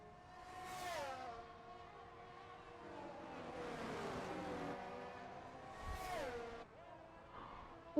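Ferrari race cars in a sim racing league event at an Australian circuit whine past, their engines rising and falling through gear changes with a whooshing pass mid-clip, fairly faint and distant.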